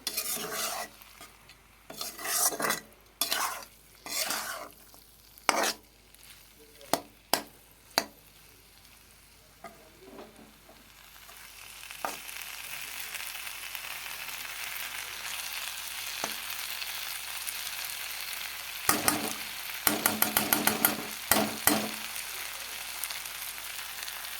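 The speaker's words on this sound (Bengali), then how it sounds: "আরেকটু সময় কষিয়ে তারপর আরেকটু জল দিয়ে দিব" Katla fish curry for a kalai paturi dish frying in a pan while being stirred, with sharp scraping strokes in bursts at first, then a steady loud sizzle and more clustered stirring scrapes near the end.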